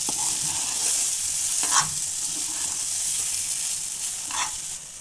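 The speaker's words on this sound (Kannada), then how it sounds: "ಮಸಾಲೆ ಹಾಕ್ಕೊಂಡು ಚೆನ್ನಾಗಿ ಮಿಕ್ಸ್ ಮಾಡ್ತೀನಿ" Ground masala is stirred into bitter gourd sambar in a pan, giving a steady soft sizzle and hiss with a few scraping strokes of the spoon, close and continuous with no talk.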